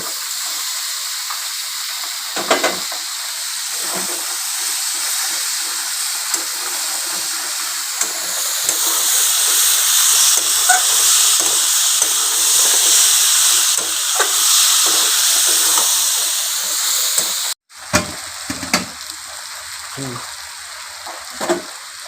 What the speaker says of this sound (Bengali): আমি কষে নিয়েছি কুমড়ো আলু চিংড়ে মাছ